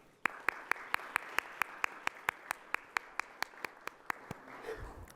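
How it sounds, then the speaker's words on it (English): A single pair of hands claps in a steady, evenly spaced rhythm, about twenty sharp claps in a row, fairly quiet and close, against a faint murmur of room noise. "Let's give them a round of applause"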